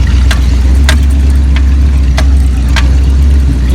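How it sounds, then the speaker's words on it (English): A Jeep CJ5 with a V8 engine runs just above idle off-road, a loud, steady low rumble with a few sharp ticks or clicks over it, no talking. "We're just barely above idle."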